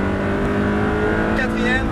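An Audi R8 accelerates at full throttle on a track, its engine roaring loud and close in a continuous rising drone while an instructor talks over it.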